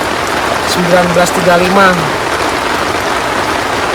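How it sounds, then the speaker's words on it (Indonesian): Heavy rain pouring steadily at a hillside campsite on Bukit Purnama, a dense, even hiss of falling water that fills the whole scene while someone speaks briefly over it. "sekarang deras lagi hujannya"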